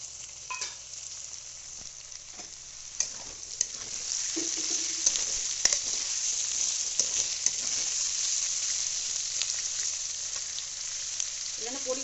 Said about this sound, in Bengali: তো আমি একটু ভালো করে ভেজে নিই ইয়েগুলো, সবজিগুলো